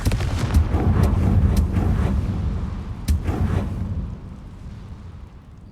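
A Confringo fire spell exploding in Hogwarts Legacy, a loud booming blast with rumbling decay, followed by a second sharp burst around the middle that fades out.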